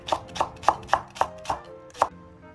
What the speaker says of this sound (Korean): 홍고추 한 개, 마늘 5살, 대파 한 대 송송 썰어서 준비합니다.